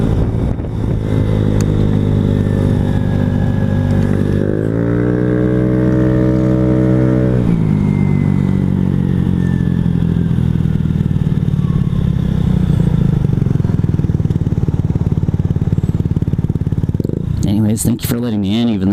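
Motorcycle being ridden, a loud continuous engine drone with one clear rev rising and falling in pitch, wind rushing over it, and someone talking throughout.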